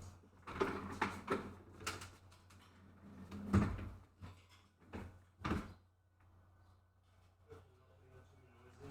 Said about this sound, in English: I'm just going to go and shut that door so it doesn't keep banging.